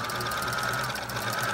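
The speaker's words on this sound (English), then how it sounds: "let me show you how it sews, just so you'll see it for yourself." A Seammaster FA693 mechanical sewing machine stitching, giving a steady, close, continuous motor hum with a fast rhythmic needle chatter and no talk.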